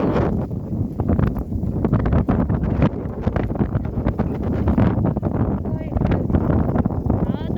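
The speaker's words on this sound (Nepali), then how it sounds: "मलाई त हावाले ठेल्दैछ" Strong gusty wind buffets the microphone on an open village walk, a loud, rough, continuous rumble with sharper gusts throughout, while people speak intermittently underneath.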